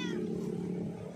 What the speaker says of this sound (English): And there's this cat here.